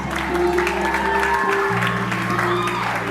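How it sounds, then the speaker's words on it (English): Audience clapping at a youth presentation for teens, a steady dense patter of hands close by under a sustained musical tone. "If you are clapping, clap better."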